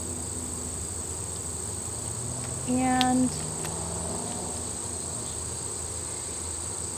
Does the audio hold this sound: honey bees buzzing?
yes